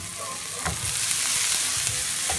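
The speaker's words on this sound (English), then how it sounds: "so we put a little bit more of the olive oil in there." Olive oil sizzles and crackles steadily in a frying pan on the stove, close and moderately loud, with a few soft clinks and stirring touches over the continuous hiss.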